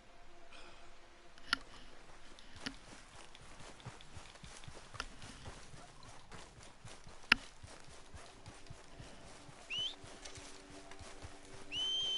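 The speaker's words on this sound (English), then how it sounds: "já vem o cavalo outra vez" Horse hooves clip-clop at a walking pace in the video game Red Dead Redemption 2, moderately close and fairly quiet, with a few sharp louder knocks and light game ambience around them.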